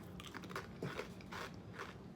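Homemade munchies snack mix, a crunchy bagel bite, is bitten and chewed up close, giving a few quiet crisp crunches in quick succession.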